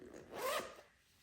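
A zipper on a handmade sewn garment of Japanese linen-blend fabric is pulled once, a short close rasping zip that swells and fades within about a second, with no talk.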